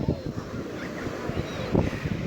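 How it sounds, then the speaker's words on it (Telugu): Large sea waves crashing onto the shore, rough surf rumbling under gusty wind noise close by. "ఇక్కడ దాకా వచ్చే అలలు నేను ఎప్పుడు చూడలేదు"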